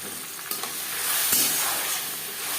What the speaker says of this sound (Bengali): তিন চার মিনিট মশলা একটু কষিয়ে নেব